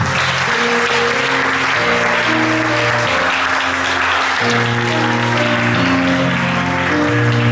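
A church congregation at a French-language evening worship vigil breaks into loud, sustained applause and cheering that fills the room, continuous for several seconds, with a music-like tonal drone carrying underneath.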